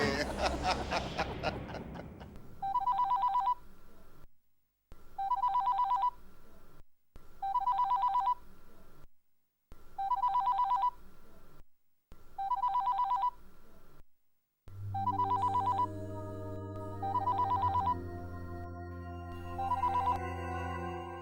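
A landline telephone rings in repeated bursts, about seven evenly spaced double-trill rings in a domestic Hindi family drama scene, fairly loud and alone, with a swelling musical sting underneath the final rings.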